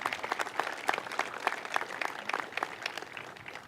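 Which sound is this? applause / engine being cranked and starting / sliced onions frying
applause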